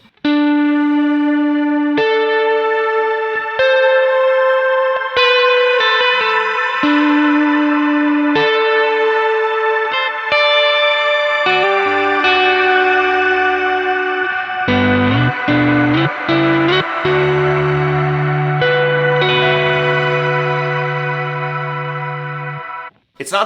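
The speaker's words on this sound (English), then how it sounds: "Check this out. Reverb." A Kemper guitar amp with shimmer reverb turns sustained guitar notes into loud, ringing tones with octave-up shimmer and long washing tails, playing alone for over twenty seconds before cutting off.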